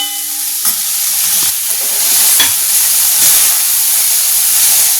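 Chicken filling sizzling and hissing in a hot frying pan while it is stirred, steady frying noise with occasional scraping clinks.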